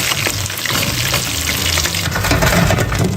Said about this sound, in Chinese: 这些以后改成小火，慢慢把它炸熟